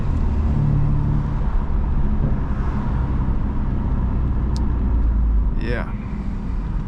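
BMW F82 M4 moving through city traffic, a steady low engine and road rumble heard from inside the car, with a short rising whine near the end.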